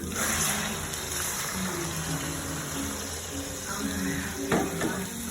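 Beef steak sizzles steadily as it goes into a pan of hot oil with golden-browned onions, a continuous close frying hiss with a faint voice underneath.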